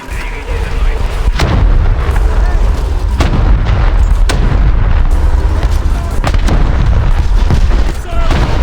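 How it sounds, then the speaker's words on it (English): Rapid, loud missile launches and heavy explosions from a naval warship battle game, a dense barrage of booms and blasts pounding continuously, with shouted voices mixed in. "Missile launched in our direction! We are damaged!"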